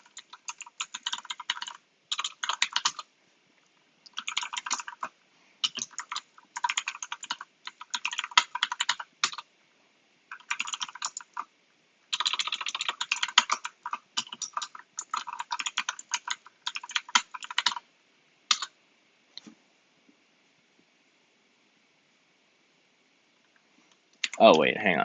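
Rapid bursts of typing on a computer keyboard, fast clattering keystrokes in runs separated by short pauses, close and fairly loud, with no talking over it.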